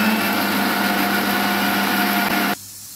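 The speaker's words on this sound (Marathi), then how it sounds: "मिक्सर मधनं बारीक काढून घेऊया" A kitchen mixer grinder whirs loudly and steadily as it grinds masala with green chillies for a chicken dish, then cuts off abruptly near the end.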